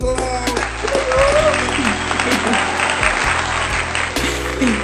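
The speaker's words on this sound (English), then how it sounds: "Let's give a round of applause." Audience applause for a guest on a talk show, continuous clapping over a backing music track with tonal melody lines, loud and sustained throughout.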